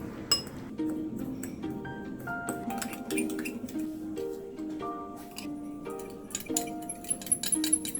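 Strawberry cinnamon roll batter of milk and vanilla extract being mixed in a bowl, with repeated light glassy clinks and taps of a utensil against the bowl, fairly close, scattered through the whole stretch without talk.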